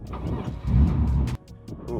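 A BMW E36 M3 track car engine accelerates hard in a loud, rough, full-throttle roar from inside the car, with a sudden dip partway through as a gear shift cuts the power before the engine pulls again.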